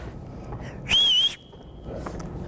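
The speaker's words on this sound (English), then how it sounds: "That's better than my other whistle." A whistle blown once in a single sustained shrill blast of about half a second, loud and close, at a school during the pandemic, with quiet background before and after.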